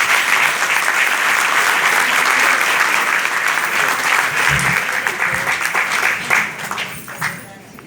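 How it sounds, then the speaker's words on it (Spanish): An indoor audience welcomes a guest speaker with loud, dense applause that runs strong, then thins out and fades toward the end with a few last scattered claps. "recibámoslo con un fuerte aplauso"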